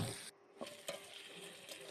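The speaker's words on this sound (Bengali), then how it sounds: "চিংড়ি ও কলাটাকে কিছুক্ষণ ভেজে নেব" Prawns and green banana fry in hot oil, giving a soft, quiet sizzle with a couple of brief clicks and scrapes from stirring.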